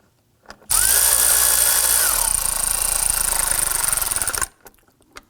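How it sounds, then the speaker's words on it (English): A power tool runs in one long, loud whirring burst of nearly four seconds, snugging down the bolts on the serpentine belt idler pulley of a 2005–2009 Subaru Legacy 2.5L H4, then stops to near silence. "let's go ahead and snug everything down"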